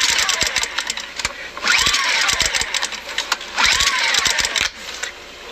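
A gasoline engine is started with repeated loud, close cranking bursts. The engine sputters and surges in several uneven attempts, then the sound drops off near the end.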